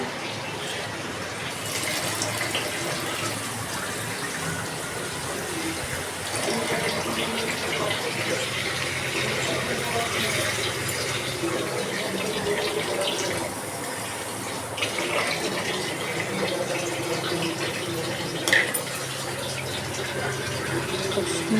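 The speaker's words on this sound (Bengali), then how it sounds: "এই মশলাটায় জল দিয়ে দেব" Water streams steadily from a tap or jug into a pan of fish curry masala, a continuous close gushing pour lasting the whole stretch, with faint kitchen noise.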